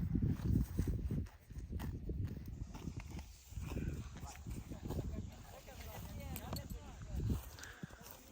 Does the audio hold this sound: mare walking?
yes